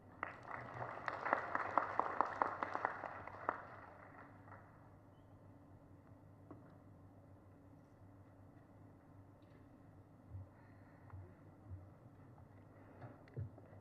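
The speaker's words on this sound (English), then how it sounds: "Can we give him another round of applause?" An audience at a health and scientific conference gives a short round of applause, clapping loudest in the first few seconds and then fading to scattered faint claps over quiet room noise.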